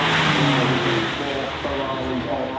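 An Aston Martin Valiant hypercar runs past the checkered flag with a loud, steady engine drone and shifting tonal whine, heard close and continuous, with a voice talking over it.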